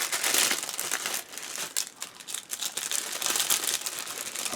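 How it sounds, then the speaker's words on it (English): A plastic parts bag from a 1/35 Takom Type 69-II tank model kit crinkles and tears open up close, with bursts of sharp crackling and rustling that swell and ease over several seconds, no voices. "That ripped now. So it's not a resealable bag."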